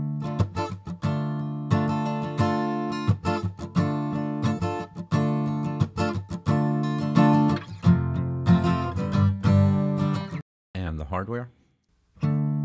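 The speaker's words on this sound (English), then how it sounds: "So this is just an acoustic guitar played into an SM7 microphone" Acoustic guitar recorded through an SM7 microphone with no processing, strummed chords ringing in a steady rhythm, close and full, with a few muted strokes near the end and no talking.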